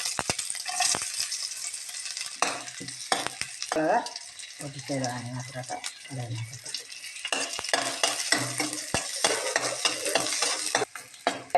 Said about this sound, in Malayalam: ഇച്ചിരി എണ്ണ അങ്ങോട്ട് ഒഴിച്ച് കടുകിട്ട്